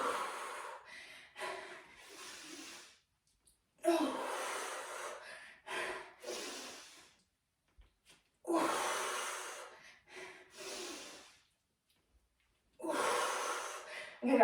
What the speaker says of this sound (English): Notice the breathing.